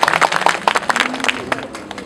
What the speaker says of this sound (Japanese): みんなで拍手送ってください。